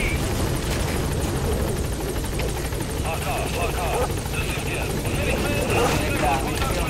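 Helicopter waiting at a landing zone in the video game Metal Gear Solid V: The Phantom Pain, with a steady rotor drone throughout. People talk over it.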